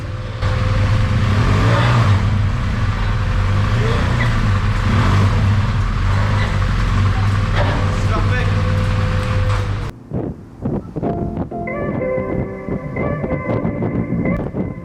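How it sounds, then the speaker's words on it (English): Motorcycle engine revving hard as it rides up onto a ferry ramp at the port, a loud steady drone that cuts off and is followed by quieter clunking and metallic sounds. "he shows us onto the ramp, and then I rev it like an absolute noob to get on."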